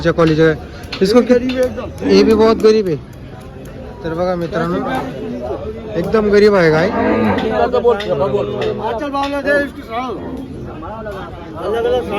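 Gir cows at a busy cattle market in Dhule give several loud, drawn-out moos one after another, close by, over a steady hubbub of crowd chatter and voices.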